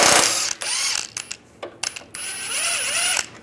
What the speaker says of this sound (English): Use a 13 millimeter socket.